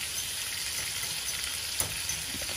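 A spoonful of garlic fries in a pan for smothered steak, giving a steady close sizzle and crackle with a faint clink partway through, and no voices.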